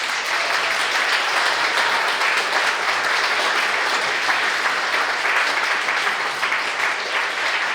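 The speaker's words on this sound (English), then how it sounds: "a very well-deserved round of applause for Avery Singer." Sustained audience applause at an art talk at the ICA closing a speaker session, a dense, loud, steady wash of many hands clapping throughout without pause.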